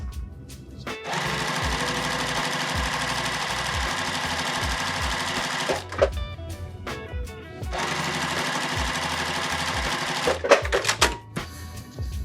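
Sewing machine stitching pieces of quilt fabric, fast rhythmic mechanical chatter in two long runs with a short pause and some handling clunks between them, close and loud.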